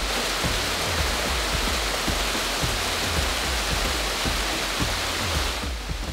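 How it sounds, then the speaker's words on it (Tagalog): Kili Falls, a powerful waterfall near a hot spring in Abra, roars as a dense, steady rush of water, loud and close and unbroken throughout, with no voices. "Powerful ang falls na ito"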